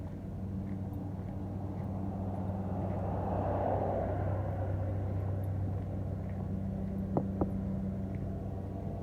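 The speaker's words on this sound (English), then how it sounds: "there's a lot of traffic" Road traffic passing in a steady distant rumble, one vehicle swelling louder midway, with a couple of faint short clicks near the end and no voices.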